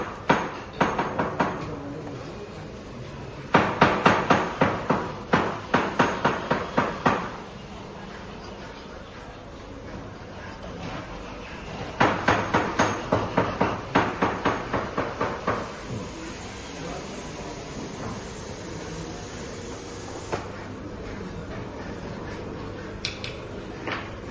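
Gemstone cutting and shaping at a gem workshop in Thailand, heard as bursts of rapid rattling, tapping strokes in two long runs with quieter grinding and workshop noise between them.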